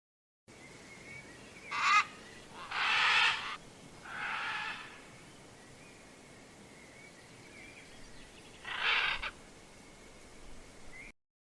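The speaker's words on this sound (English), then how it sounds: "Red macaw parrot." Red macaw parrot calling: a few harsh, raspy squawks in separate bursts with quiet gaps, moderately close against a faint steady hiss.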